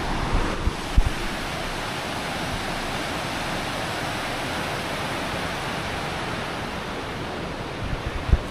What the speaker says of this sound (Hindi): स्वागत है आपका बियर वाटरफॉल में, स्वागत हुआ एक बड़ी प्यारी सी नदी से